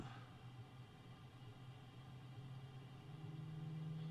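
A MiG-29 jet engine in Microsoft Flight Simulator 2020 starts up, a low rumble slowly building in level and pitch over a few seconds, a steady mechanical drone rising as it spools up, fairly quiet.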